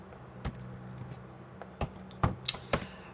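Typing on a computer keyboard, a few sparse, crisp key taps spaced irregularly over a faint background hum, close and fairly soft, with no talking.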